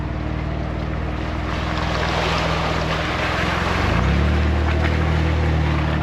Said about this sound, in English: another water crossing.